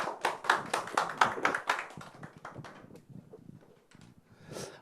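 A seminar audience at a public real-estate investment lecture claps to welcome the lecturer, a burst of crisp clapping that thins out into scattered claps and fades, with a small bump at the end.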